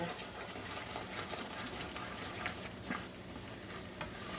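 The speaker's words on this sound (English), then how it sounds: "I'm just letting this simmer, and then I add my sour cream." Poor man's stroganoff simmers in a pan, a faint steady sizzle and bubbling with soft crackles, continuous and even throughout.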